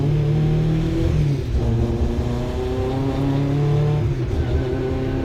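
A 750mc Hot Hatch race car pulls out onto Silverstone circuit in 2019, its engine droning loud and close with the pitch climbing and dipping through gears under steady road and wind noise.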